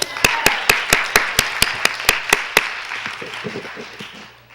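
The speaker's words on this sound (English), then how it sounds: "So give yourselves a hand." Roughly a dozen sharp, evenly paced claps ring out close by at a law symposium, then taper off into soft room murmur and scattered lighter taps.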